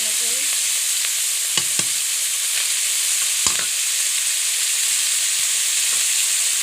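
Small morola fish fry in a pan with a steady, bright sizzle and hiss, broken by a few sharp crackles and spatters, close and alone without talk.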